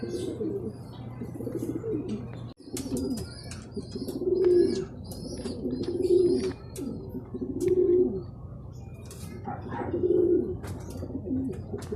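Young birds coo repeatedly in soft rhythmic phrases from a tree, including a bluebird, with brief chirps and a flutter of wings, fairly close outdoors with no talking.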